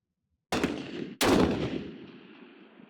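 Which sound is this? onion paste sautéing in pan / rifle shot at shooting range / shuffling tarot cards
rifle shot at shooting range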